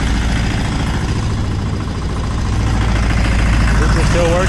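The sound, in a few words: homemade motor sailor boat engine running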